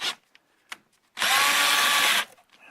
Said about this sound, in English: am using my drill to do that